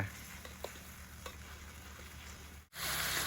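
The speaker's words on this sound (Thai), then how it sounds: "ผัดเครื่องให้หอมนะยาย" Sliced lemongrass and shallots stir-fried in coconut milk, a steady close sizzle with scraping stir strokes throughout, cut by a brief near-silent gap before the frying resumes louder.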